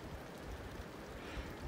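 Steady rain patters and hisses on a mountain summit along the Appalachian Trail at Katahdin, a dense, even wash of drops without a break and with no voices.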